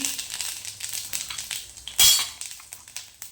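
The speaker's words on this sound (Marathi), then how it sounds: "तेल तापले. आता जिरं मोहरी टाकूया आपण त्याच्यामध्ये." Cumin and mustard seeds crackle and pop in hot oil in a pan, a steady patter of small sharp crackles with one louder burst midway, close and without speech.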